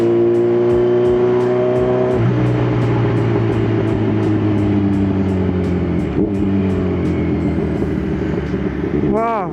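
A Kawasaki Z1000 motorcycle with a loud aftermarket exhaust revs hard and holds a steady, throaty drone close by, dropping pitch partway through before climbing again, with a voice briefly over it.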